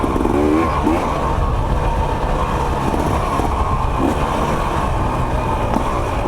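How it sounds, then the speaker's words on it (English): A 2024 KTM 300 XC-W two-stroke dirt bike engine drones steadily and loud up close while riding a trail, with a brief pitch change as it shifts up into third gear. "Grab another gear so the bike can roll fast on the clutch. Probably in third gear."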